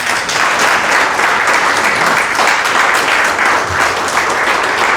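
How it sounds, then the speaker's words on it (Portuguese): Steady, loud applause from a large church congregation, many hands clapping in a dense continuous wash with no pause. "a gente encerra aqui, aplauda Jesus."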